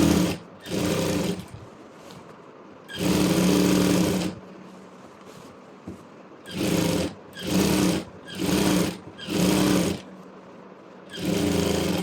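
A sewing machine runs stitching gathers into a saree being made into a maxi, in repeated bursts of steady whirring separated by short pauses, close and clear.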